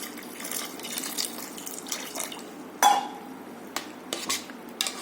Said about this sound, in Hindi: तो अब मैं इसमें मटके का पानी डाल रही हूँ